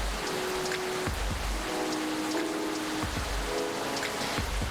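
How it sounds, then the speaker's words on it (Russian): Steady rain patters on a surface as ambient weather in the video game Coffee Talk Episode 2, a continuous soft hiss with faint low tones of background music underneath and no voices. "Опять дождь?"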